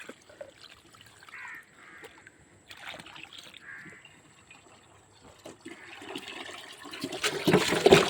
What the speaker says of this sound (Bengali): আমি একটাতেই 3 বালতি করে পানি দিই,